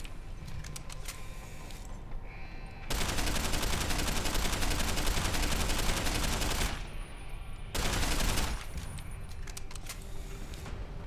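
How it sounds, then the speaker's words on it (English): Sustained automatic gunfire from an unlimited-ammo gun in Deus Ex: Human Revolution Director's Cut, two loud rapid bursts, one long and one short, with quieter game ambience between them. "no reason to stop shooting since it's unlimited ammo"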